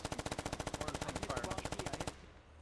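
Sustained automatic gunfire in the video game Squad, a rapid evenly spaced burst of about thirty loud shots lasting two seconds, then stopping abruptly into quiet background.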